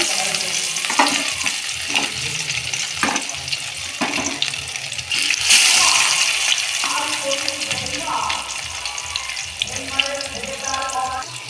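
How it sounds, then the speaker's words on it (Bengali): Hot mustard oil crackles and sizzles up close in a kadai, swelling into a louder burst as rohu fish goes into the pan, with clinks of utensils throughout. "তেল গরম হওয়ার পর কড়াইয়ে মাছ দিয়ে দেব।"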